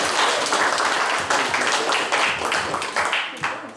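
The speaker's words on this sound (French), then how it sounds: "She deserves our clapping," An audience applauds steadily at a twinning reception in Vence, a dense, close wash of clapping that carries through without a break.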